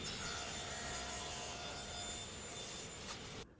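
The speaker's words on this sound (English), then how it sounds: "We're going to cut right down the middle with the table saw here." A table saw rips a board straight down the middle in a woodworking shop, one loud continuous whining cut that holds steady for about three seconds and then cuts off abruptly.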